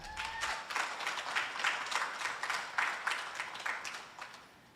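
Audience applause for a singer at an official launch event, a steady wash of many hands clapping at moderate level for several seconds before tapering off, with no voices over it.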